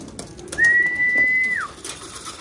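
A single long, steady pigeon coo rings out close by, then bends downward at the end, with light rustles and taps around it as trained pigeons are let back into their loft.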